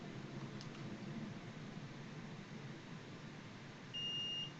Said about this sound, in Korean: 부저로 삐 소리를 울려서 출입을 제한합니다